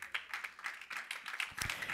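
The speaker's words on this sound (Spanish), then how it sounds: "¿Cuántos le dan palmas al Señor?" A church congregation claps for the Lord in brief, uneven bursts, a scattered patter of hands sounding close and fairly soft.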